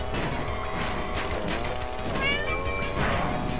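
A cartoon cat character meows in the kart racing game Crash Team Racing, a short high meow rising out of dense game music and engine noise, with faint impact sounds nearby.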